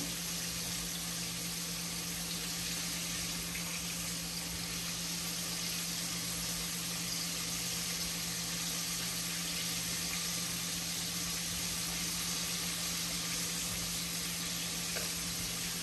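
Chicken frying in a pan gives a steady, unbroken sizzle with a faint hum underneath, continuous and even throughout, with no voices.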